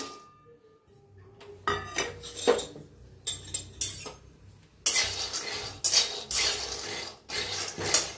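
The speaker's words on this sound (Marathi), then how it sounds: "आता घेऊया शेंगदाणा भाजून" Peanuts being dry-roasted in a pan: a handful of bright metallic clatters and scraping stirs, arriving in short separate bursts with quiet gaps between them, close and fairly loud.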